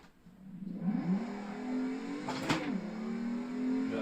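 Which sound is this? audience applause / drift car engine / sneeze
drift car engine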